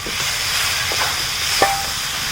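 Fried taro and potato pieces tipped into sizzling spice paste and stirred, giving a steady hissing sizzle broken by a few soft scraping strokes.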